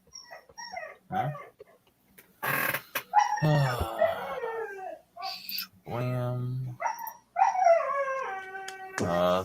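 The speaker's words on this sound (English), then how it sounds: "Sorry, my dog is freaking out." A dog whimpers and howls in several drawn-out, rising cries at close range, alternating with and partly overlapping a person talking.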